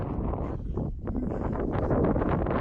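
Wind blows across a breezy mountain stretch of the Pacific Crest Trail, a steady rough rumble buffeting the microphone up close, with no voices.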